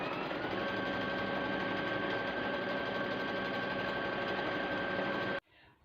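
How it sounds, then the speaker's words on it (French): A sewing machine stitching a pillowcase runs loud and steady with a dense, even mechanical whir close by, then cuts off abruptly near the end, leaving a brief quiet rustle. "je soulève le pied de presseur, après je pivote le tissu sous l'aiguille."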